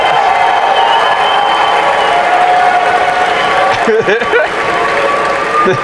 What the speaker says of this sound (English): This is a compilation of all of the cheering he got during that press conference.